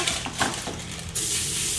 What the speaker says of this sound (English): I'm also gonna use a little cooking spray